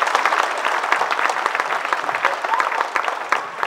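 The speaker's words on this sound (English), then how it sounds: "So let's give one more rousing applause for Dr. Sane, Shal Uncle, and the rest of th" A graduation ceremony crowd at a Hindu temple gives sustained, even applause, close and fairly loud with no talk over it.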